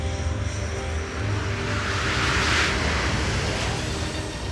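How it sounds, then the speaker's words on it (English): A Horten 229 jet fighter flying over a remote wartime airfield in Germany, a steady loud engine roar with a broad rushing whoosh that swells slightly as it passes, continuous throughout. "a top-secret jet fighter makes its first flight"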